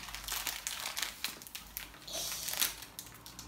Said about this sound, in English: then you open the package